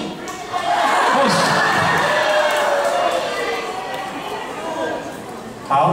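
Crowd at a fan party event applauds and cheers loudly and steadily for several seconds, a broad wash of clapping and shouts that eases slightly before a brief louder burst at the end.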